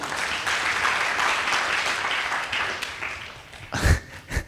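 A church congregation applauds for God, a full, dense burst of many hands clapping together that fades out near the end, leaving a few separate louder knocks.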